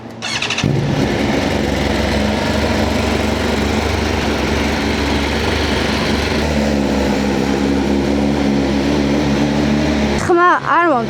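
A 2026 BMW S1000RR sport motorcycle engine idles loudly and steadily close by for about ten seconds, then cuts off, followed by a brief rising whine.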